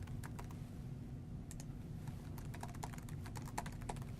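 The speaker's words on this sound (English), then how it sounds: "I'm just going to type the team name here" Typing on a computer keyboard to enter a team name in Microsoft Teams, a quick irregular patter of soft key clicks, close and steady, with no voices.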